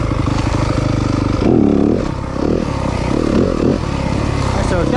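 A 2023 Yamaha 250FX dirt bike engine runs close by with a steady low drone that swells as the throttle opens and falls back, loud and continuous, with a rider's voice mixed in.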